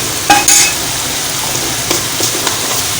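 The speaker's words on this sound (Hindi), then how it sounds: "गोश्त डाल के भी ये मसाला भूनेगा अभी" Masala for beef yakhni pulao frying and being stirred in a pot, a loud close sizzle with a few sharp spoon scrapes and clinks.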